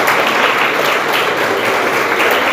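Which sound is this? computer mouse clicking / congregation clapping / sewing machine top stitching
congregation clapping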